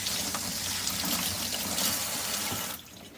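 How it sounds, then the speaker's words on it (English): Hands are washed under a running kitchen tap, a steady close splashing and trickling of water that stops abruptly near the end. "I gotta wash my hands again"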